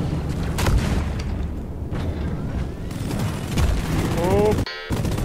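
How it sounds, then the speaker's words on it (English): Loud rumbling blasts and booms fill the whole stretch of a Deep Rock Galactic mission, with dense game noise, a sharp cut near the end and a short tonal sound effect. "Oh, why did that explode?"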